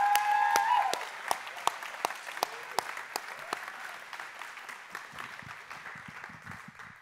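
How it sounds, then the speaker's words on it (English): Church congregation applauding in a worship service, a dense burst of clapping that swells at the start and then thins out into scattered individual claps fading away. "Now, can we praise Jesus with a round of applause?"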